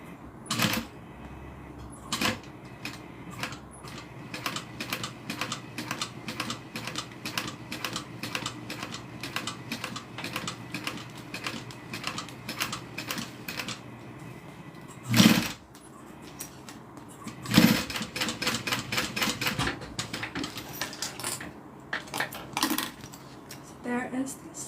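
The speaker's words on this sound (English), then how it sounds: "I'm just going to hand crank around here" Hand-cranked sewing machine stitching slowly around the corners of a zip-around wallet, a steady run of close, crisp mechanical clicks with brief pauses and a couple of louder knocks.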